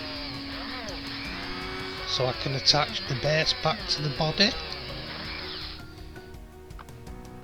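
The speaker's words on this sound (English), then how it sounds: "I'm just drilling out the body posts, ready for tapping, to take the M2 screws" A small power drill whines steadily throughout, close by, drilling out the body posts of a Corgi Aston Martin DB4 model for M2 screws, while a person speaks over it briefly in the middle.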